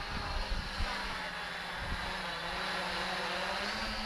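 A 650 class quadcopter drone flies steadily at a distance, its motor and propeller whine rising in pitch as it makes sudden braking maneuvers, with wind noise buffeting the microphone throughout.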